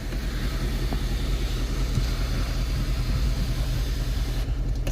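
A Fiat 500 convertible with its engine recently changed idles steadily with the hood up, giving a continuous low rumble and a constant mechanical hum, close and unbroken.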